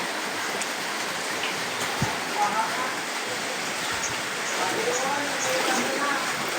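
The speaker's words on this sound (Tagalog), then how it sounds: "Kawawa, guys, pinasok na kami ng baha." Floodwater rushes steadily through a flooded house, a continuous broad wash of water close by with a few small knocks.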